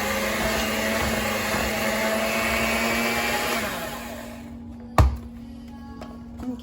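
An electric mixer whirs steadily through buttercream frosting for a birthday cake, loud and continuous, then cuts out, followed by a sharp knock.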